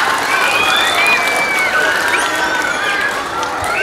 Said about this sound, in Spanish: Un fuerte y caluroso aplauso.